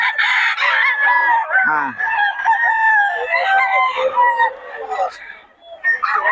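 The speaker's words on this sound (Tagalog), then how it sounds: "Boss Joseph, saan mga manok mo, boss?" Roosters crow loudly and repeatedly, several calls overlapping with clucking chickens close by, one after another with little pause, at a chicken seller's in Bocaue, Philippines.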